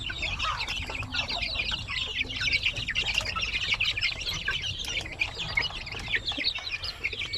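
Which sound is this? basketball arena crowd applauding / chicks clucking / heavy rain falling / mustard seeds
chicks clucking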